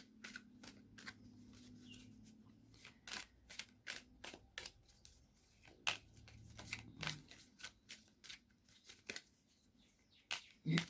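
Oracle cards being shuffled and drawn by hand, with repeated crisp riffles, slaps and snaps in an irregular rhythm, close and fairly quiet, with no talking.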